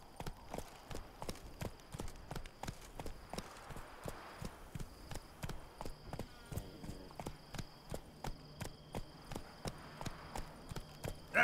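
Roach the horse clip-clops at an even walking pace in The Witcher 3, hooves striking in a regular, unbroken rhythm, fairly faint and unaccompanied by speech.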